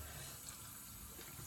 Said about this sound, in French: je rince ma petite serviette